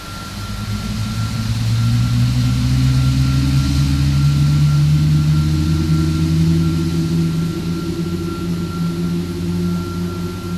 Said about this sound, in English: we'll start engine number 1 first